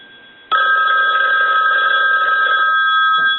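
Ringing from the bell of an ITT touch tone desk telephone under repair, set off by a line analyzer: a loud, close, continuous rattle of bright metallic strikes that starts abruptly and holds steady for several seconds.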